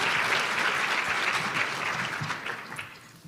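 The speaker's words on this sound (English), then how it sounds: "can we just give a big round of applause?" Audience applause for the 2025 Rare Voice awardees at a Rare Disease Week event on Capitol Hill, a full, dense round of clapping that holds steady and then gradually thins out.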